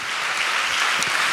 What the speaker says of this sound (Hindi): तालियां बजा के हम परमेश्वर को धन्यवाद दें